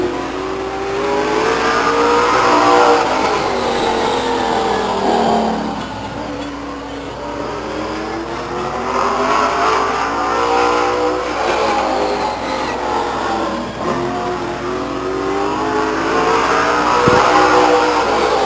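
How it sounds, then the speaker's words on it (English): A late model stock race car engine roars around Stockton 99 Speedway, rising and falling in long sweeping revs as it laps, loud and continuous for the whole stretch with no clear talk over it. "In the number 18 car from Walnut Creek"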